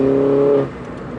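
A 288 bhp R56 Mini Cooper S engine revs hard with a steady tonal whine, then the pitch drops off as the throttle eases, leaving a lower rumble.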